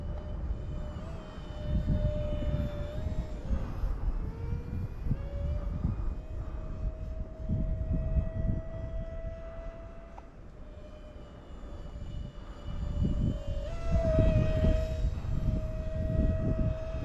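A Dark Star EDF jet RC airplane flies in wind, its ducted fan making a steady high whine with a sustained tone over broadband roar that swells and fades as it passes, loud throughout and with no voices.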